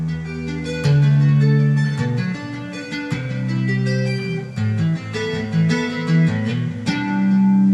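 Electric guitar playing the riff patterns, a continuous run of picked notes and shifting phrases, close and steady in level, with no talking.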